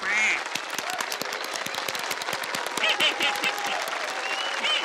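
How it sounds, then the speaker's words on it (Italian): In a Pocoyo cartoon scene, a crowd applauds with dense, crackling clapping that holds steady for several seconds after a dance performance, with bright cartoon sound effects over it. "Facciamo tutti un bel applauso per questa spettacolare esibizione di ballo."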